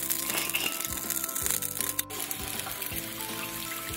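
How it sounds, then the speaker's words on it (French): Crackling sizzle of water droplets hitting a hot pan while cooking a homemade tortilla, with sharp spits and pops over a steady hiss, close up. "on entend le grésillement"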